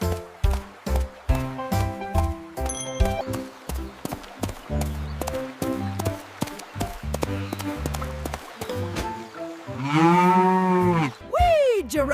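A cow moos loudly in a 3D animal video game, a long drawn-out bellow near the end that follows a stretch of bouncy, rhythmic game music.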